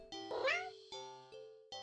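Cartoonish cat meows from a horror-themed video game about a cat, several distinct rising mews heard close and loud, one long and wavering then shorter repeated calls, with no talking.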